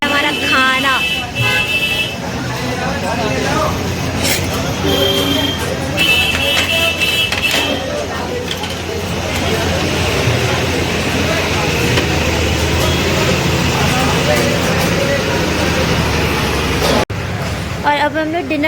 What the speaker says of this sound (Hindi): नीचे पूरा ट्रैफिक लगा हुआ है